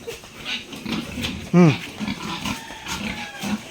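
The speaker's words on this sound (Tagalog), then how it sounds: "Gagmay lang to guys mga baboy ko." Small fattener pigs grunt and snort on a farm, a loud close grunt standing out among softer scattered grunts, with someone talking over them.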